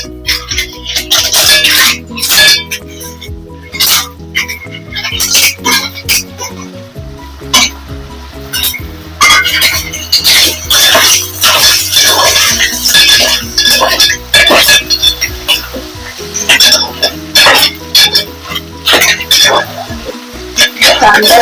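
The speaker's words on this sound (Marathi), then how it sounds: "आता आपला कांदा व्यवस्थित परतला गेलाय, मी ह्या तिसऱ्या घालून घेते ह्याच्यात।" Clams tipped into sautéed onions in a pan for Malvani clam curry, with steady sizzling, shell clinks and utensil scraping against the pan over background music.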